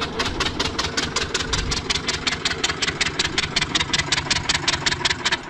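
An old war tank's heavy engine runs with a fast, regular chugging beat, loud and close, steady throughout with no voices.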